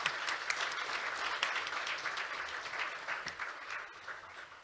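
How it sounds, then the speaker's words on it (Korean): Audience applause at an international peace and security forum in Pyeongtaek, a fairly faint, steady patter of many hands clapping for several seconds with no talk over it. "그런 의미에서 힘찬 박수 부탁드립니다."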